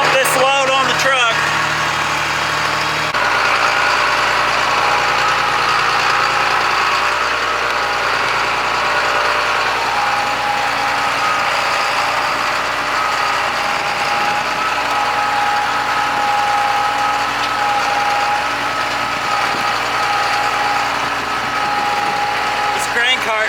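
A farm tractor engine runs at a steady loud drone while pulling a grain cart to unload grain onto a truck, a constant close rumble with vibration throughout, and a voice talks over it.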